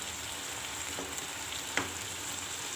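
Small cut pieces of fat sizzle softly in a pan, a steady, faint frying hiss broken by one or two light stirring clinks, heard close with no talk.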